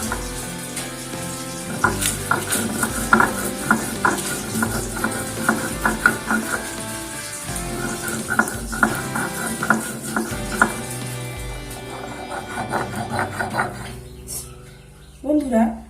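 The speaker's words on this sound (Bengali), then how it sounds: "আমি শিলনোড়ায় মশলাটা করছি।" Spices are ground by hand on a sil-nora grinding stone, giving a rhythmic series of rough scraping strokes at close range over soft background music.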